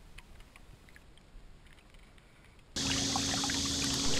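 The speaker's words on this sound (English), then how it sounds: "I'm using an electric motor, but still in all, it picks up some grass from time to time" A small boat driven by an electric motor cruises through weedy spring water, quiet at first, then a loud, steady rush of water and motor noise sets in abruptly and holds.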